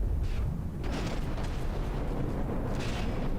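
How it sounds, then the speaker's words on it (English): Anti-torpedo torpedoes fire in a naval battle in From the Depths, a dense run of booming bursts and pops rumbling together as a loud, continuous barrage with no talking. "Now we have anti-torpedo torpedoes popping in there."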